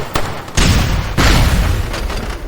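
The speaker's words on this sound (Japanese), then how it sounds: "爆発するぞ。" Explosions in the PSP military shooter SOCOM U.S. Navy SEALs Fireteam Bravo 3: three loud, booming blasts, the first short and sharp, the next two heavy and rumbling with long noisy tails.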